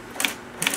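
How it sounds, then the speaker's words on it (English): Typewriter keys strike in two short bursts of a few quick clacks each, close and moderately loud, with a quiet pause between them and no talking. "Isn't it fun to use a typewriter now?"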